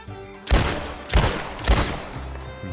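Three loud, sharp gunshots at a video game shooting range in Red Dead Redemption 2 fire about half a second apart, each with a brief decaying echo, over a low steady background hum.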